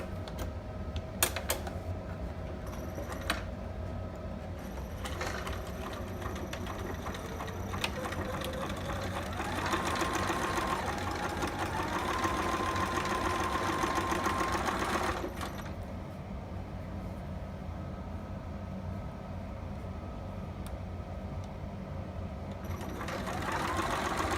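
A sewing machine stitches the little ties onto a two-piece baby sitter garment, running in steady bursts of close mechanical whirring and clatter, pausing and restarting, with a brief louder stretch midway.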